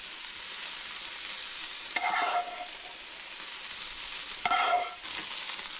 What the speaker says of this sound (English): So now add this vegetables all over